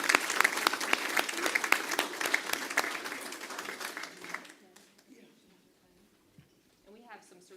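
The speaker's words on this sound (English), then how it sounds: "Let's give them a round of applause." Audience applause at a board of trustees meeting, a burst of clapping lasting several seconds before thinning out and fading, followed by quiet room sounds and faint talk.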